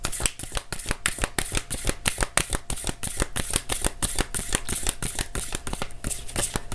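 Tarot cards being shuffled by hand produce a rapid series of crisp, riffling snaps and flutters, repeated steadily and close up throughout, with no voices.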